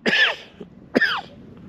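Two dry, irritating coughs come close together, each a sharp hacking burst with a faint catch after, close and clear with no talk.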